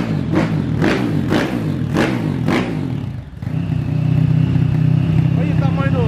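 A small 150cc motorcycle engine runs close by, with a few heavy thumps early on, then settles into a steady, loud idle drone while people talk over it.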